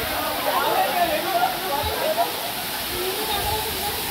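Nhavankond waterfall at Talebazar, a constant broad roar of falling water filling the whole stretch, with voices faintly mixed into the rush.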